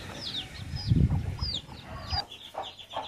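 Country-breed chickens and chicks on a farm make a close mix of high cheeping peeps and low clucking, with scattered chirps running throughout.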